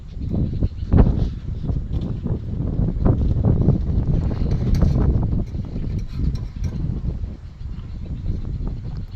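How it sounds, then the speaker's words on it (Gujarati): Strong wind roars and buffets steadily outdoors, a loud continuous rushing with gusty swells. "વાયરો બહુ છે ને એટલે"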